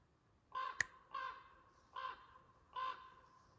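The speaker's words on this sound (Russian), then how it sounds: "И ворона там что-то пытается мне сказать." A crow caws four times outdoors at a rural building site, evenly spaced harsh calls at moderate distance over a quiet background, with one sharp click near the first caw.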